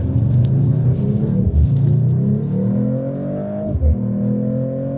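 A 2024 Mercedes-AMG CLE53 coupe in race mode accelerating hard uphill, its engine and exhaust rising loud and close through the gears with brief dips at each shift and no talk.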